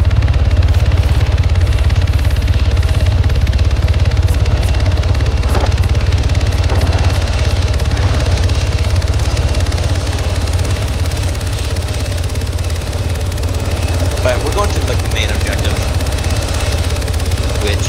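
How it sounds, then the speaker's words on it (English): A fast, heavily armed military helicopter in Arma 3 drones with a loud, steady low engine and rotor rumble that holds constant from start to finish, close and dominant. "this is a fast, heavily armed helicopter"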